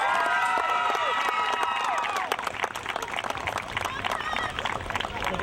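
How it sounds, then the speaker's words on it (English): Crowd at a youth baseball ceremony for the Marlins and Rays claps and cheers loudly, with children shouting over sustained applause that eases slightly but keeps going, voices mixed through it. "let's hear one more round of applause"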